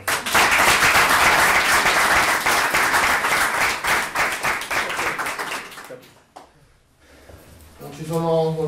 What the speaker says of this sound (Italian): chiedo un applauso